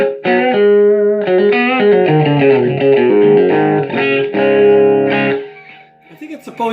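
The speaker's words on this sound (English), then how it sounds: "I think it's supposed to simulate like being in a big room maybe or something" An electric guitar plays sustained chords through a ZT amplifier with its ambience control turned up, giving a spacious, echoey room-like wash. The playing is loud and close, ending with a few scattered softer notes.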